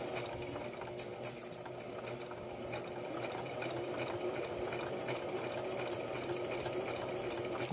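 A sewing machine stitches fabric for a baby hat, a steady buzzing whir punctuated by a few sharp clicks and knocks, close and moderately loud, with no voices.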